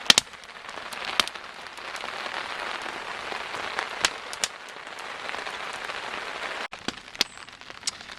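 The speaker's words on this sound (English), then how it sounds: "it's been just a steady light rain all afternoon. So we're under the tarp now." Steady light rain pattering on a tarp overhead at a wilderness campsite, a continuous soft hiss dotted with sharper individual drop taps, fairly close, with no talking.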